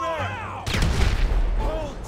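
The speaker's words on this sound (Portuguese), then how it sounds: "de onde que sai esse tiro" A short loud burst of gunfire in the action game GTA V, a dense volley of shots behind background game noise, with a voice briefly heard.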